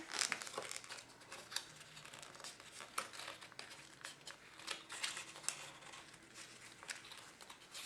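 Cardstock being folded and pressed for a Victorian card purse, faint crinkles and soft taps close by, scattered through a quiet stretch with no talking.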